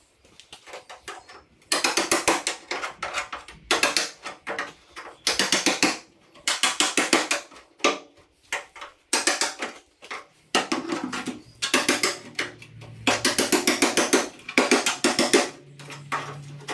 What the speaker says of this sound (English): so I'll just get hammer and chisel onto them.